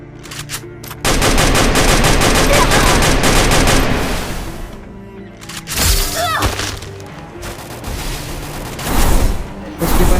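Rapid automatic gunfire from the Free Fire battle royale game, with an M249 machine gun, loud and sustained in long bursts with short pauses and sharp single cracks, mixed with game effects.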